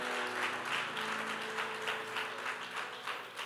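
A church congregation applauding together, a dense, even wash of clapping held at a moderate distance for a few seconds with no voices above it.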